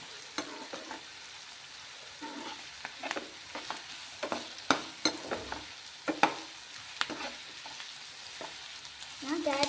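Capsicum and green chillies fry in a pan, giving a steady close sizzle broken by repeated sharp clatters and scrapes from stirring, with no one talking.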